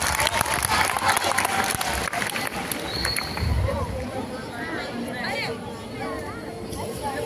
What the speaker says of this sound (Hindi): ओए टोको ताली